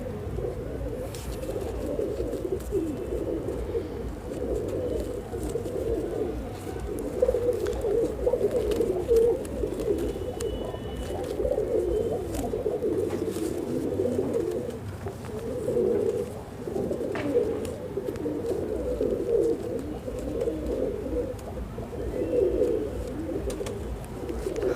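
Soft, throaty pigeon cooing repeating continuously at close range, a low burbling drone with no one speaking.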